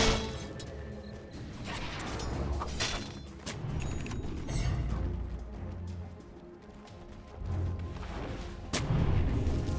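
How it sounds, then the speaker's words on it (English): Continuous rumbling booms and clashing impacts from a Dota 2 tower under attack in video game combat, with dense layered explosions and metallic hits throughout, moderately loud. "Dire's top tower is under attack."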